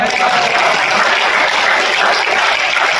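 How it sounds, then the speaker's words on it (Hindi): Loud, dense applause from an audience at a Hindi poetry gathering (kavi sammelan) at CSIR-NML, steady and sustained throughout. "ये जोरदार ताली मैडम के लिए।"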